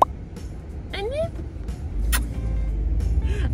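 Cars move through road traffic on the way to an airport, a continuous close engine and road rumble with passing vehicles and brief higher whines, while voices talk over it.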